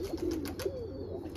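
Soft pigeon cooing nearby in a morning yard after heavy rain, a few low throaty warbling coos against quiet background noise.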